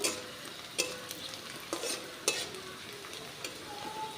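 Chopped onion and spices frying in a pan while being stirred for moong and masoor dal, a soft continuous sizzle broken by several scraping strokes of a spoon against the pan, no talking.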